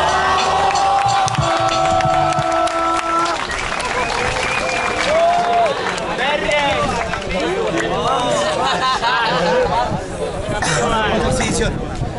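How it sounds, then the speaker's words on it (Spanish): A crowd at a rap battle exhibition in Rancagua claps and cheers, loud busy clapping and chatter blending with a voice over the noise. "vamos a dar un aplauso fuerte para la dupla de Hawker y SZ"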